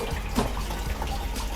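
Water falling through a tiered aquarium trickle box filter, a steady close splashing and trickling rush that runs continuously without voices.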